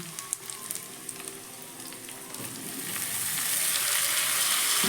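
Spice-coated cauliflower sizzles and crackles in hot oil over a medium-high gas flame, the frying hiss swelling louder and denser over the last couple of seconds.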